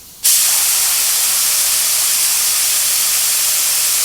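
A paint spray gun run off an air compressor starts abruptly and keeps up a loud, steady, broadband hiss with no breaks, close by and alone.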